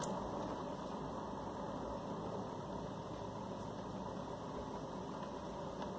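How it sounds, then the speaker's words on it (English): A pottery wheel motor runs steadily while porcelain lampshades are thrown, a constant mechanical hum with a fixed whine and broadband rumble, continuous and fairly close with no speech. "I'm slowing down the wheel now"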